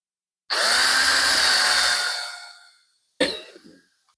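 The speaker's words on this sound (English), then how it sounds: "Drill ourselves another hole." A power drill bores a hole into the wooden frame of a double-sided portrait mirror in one loud, close burst of about two seconds that winds down, followed by a shorter second burst.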